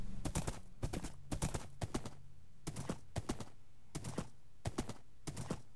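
Rhythmic hoof clip-clops from a horse in the video game Minecraft, sharp close knocks in irregular clusters of two or three repeating steadily through the stretch with no talking.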